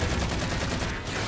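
Dense, continuous bursts of turret gunfire fill a Halo 4 firefight, loud and close, with rapid repeated shots running the whole time and no clear talk over them.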